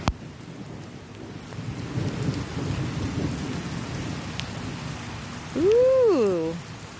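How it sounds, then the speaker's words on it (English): Steady rain patters under a low, rumbling wash of thunder, with a brief whooshing, rising-and-falling tone passing near the end. "call me crazy, I'm in the rain"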